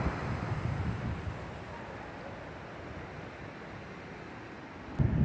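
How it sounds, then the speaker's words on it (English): Strong Hurricane Ian wind roars steadily outdoors around a container home, a dense rushing noise buffeting the microphone, with a sharper gust at the end. "Pretty damn windy right now, look at that."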